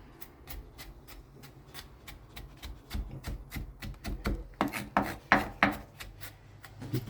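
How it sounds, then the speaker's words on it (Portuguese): A knife chops garlic on a cutting board in a steady series of close, crisp taps that speed up and grow louder toward the end. "Picamos esse alho."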